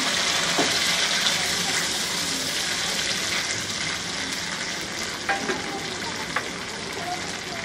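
Garlic sizzles steadily in hot oil as tomato ketchup goes into the pan, giving a continuous close crackle with a few brief stirring clicks and spatters and no talking.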